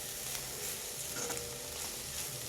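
Ingredients for butter pea usli fry in a pan, a soft continuous sizzle with faint stirring scrapes, steady and close with no talking.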